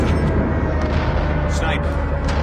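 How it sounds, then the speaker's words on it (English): Friendly airstrike explosions rumble in a military shooter game, making dense, continuous booms with loud radio-style voices talking over them. "Friendly airstrike incoming."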